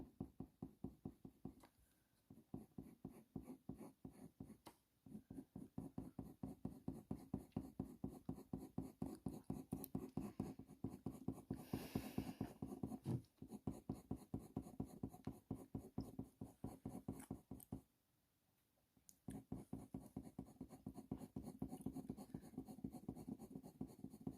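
Colour pencil drawing on paper: rapid, steady scratchy strokes repeating in a fast rhythm close to the mic, with one brief pause partway through before the shading resumes.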